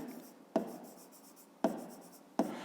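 A pen writes on paper during a fifth-grade math exercise, producing soft, close scratching strokes punctuated by three sharp taps as the pen touches down.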